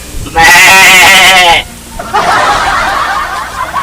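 A voice imitates a goat's bleat with a quavering, vibrato-like call lasting about a second during comedic banter, followed by a noisier stretch of voices and laughter.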